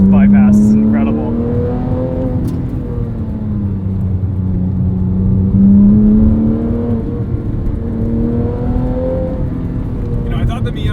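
A Porsche 997.1 911 GT3 on a canyon road, its engine breathing through a Sharkworks bypass exhaust, rises and falls in pitch as it revs through the gears, loud and close from inside the car.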